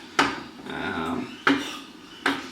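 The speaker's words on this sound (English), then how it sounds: "just going to keep chopping those up" Knife chopping oyster and shiitake mushrooms on a cutting board, three sharp, evenly spaced knocks close by, with softer scraping and shuffling of the pieces between strikes.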